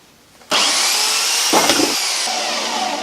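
An Aldi £150 Workzone bandsaw on a vertical stand switches on abruptly into a loud, steady whine, with a brief rougher surge partway through as it keeps running close by.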